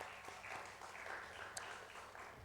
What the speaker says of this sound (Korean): 감사하다고 박수하겠습니다.